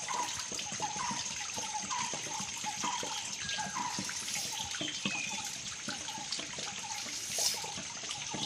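Spring water trickles over rocks in a village forest, a continuous close babbling with small splashes and gurgles, fairly soft and steady throughout.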